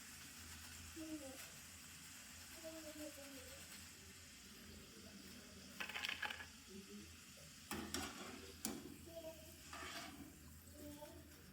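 Potato chips fry village-style in hot oil and are lifted out, giving a steady soft sizzle with scraping and clinking stirs, a brief splashy burst, and a voice talking over it.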